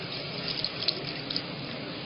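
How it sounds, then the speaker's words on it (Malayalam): Water poured from a tap or jug into a pan holding boiled-down Pepsi and 7Up, a steady close splashing pour lasting about two seconds with no talk. "വെള്ളം ഒഴിക്കും."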